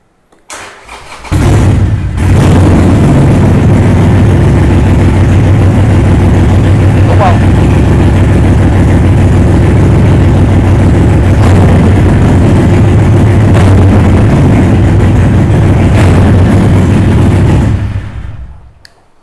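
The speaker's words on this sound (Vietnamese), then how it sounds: "Vô cái này thì bô van hai nó nghe hơi chát hơn tí xíu nha mọi người. Nó nghe tiếng giống như xà lan hơn á" A Harley-Davidson 883 motorcycle fitted with an aftermarket exhaust and a non-stock header fires up and settles into a loud, deep, throbbing idle close by, running steadily for about fifteen seconds before cutting off.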